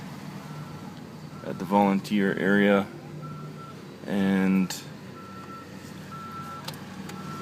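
A garbage truck reverses through a flood-damaged town in July 2013 and sounds steady, evenly spaced backup beeps. The beeps stay at moderate distance under engine rumble while a person speaks briefly over them.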